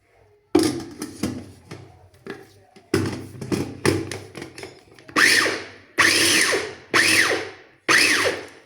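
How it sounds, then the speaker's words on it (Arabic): Electric chopper grinding coriander and parsley, starting after a short pause and then running in several loud whirring bursts about a second long, with clattering in between. "نديرو في الطحانه في هاد الهاشوار"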